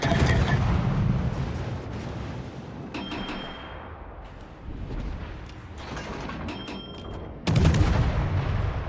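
Destroyer guns in a naval video game fire in heavy booming salvos, a loud blast at the start and another near the end, with rumbling echoes and quieter gunfire trailing in between.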